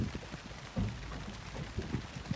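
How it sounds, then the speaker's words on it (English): Rain patters steadily on a winter jacket hood during rainy-day fishing on Indianwood, heard as close, soft, irregular taps and thuds, faint and fairly quiet, with no one speaking. "It's the rain hitting your hood."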